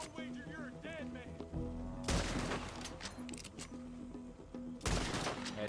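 Gunfire in Red Dead Redemption 2: a couple of sharp, loud gunshot cracks ring out under a steady backdrop of game music.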